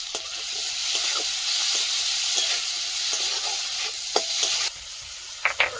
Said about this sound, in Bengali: এই তেলের মধ্যে টমেটোগুলো ভেজে নেব।